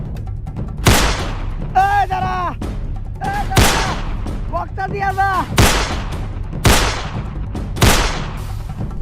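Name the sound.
gunshots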